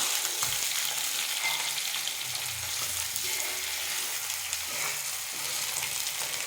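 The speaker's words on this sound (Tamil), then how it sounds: "இந்த ஆயிலில் அப்படியே லைட்டாக ஃப்ரை ஆகட்டும் அதுக்கப்புறம் நம்ம திருப்பி விட்டுக்கலாம்" Fish pieces fry in a shallow layer of oil in a pan for a fish curry, a steady close hiss of sizzling with a few soft bumps, continuous and even throughout.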